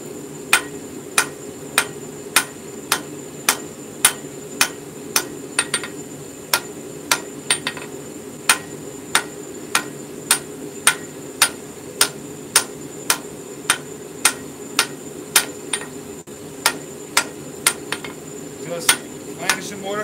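Steady hammer blows on hot steel while forging a bottom fuller, sharp ringing strikes repeating at a regular pace of roughly one or two per second for the whole stretch, close and clear over a low background hum.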